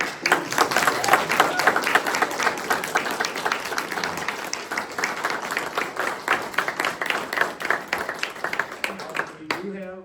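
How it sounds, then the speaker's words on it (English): Audience applause at a county board candidate forum, steady crisp clapping from a modest crowd for about ten seconds before it fades out at the end. "a round of applause"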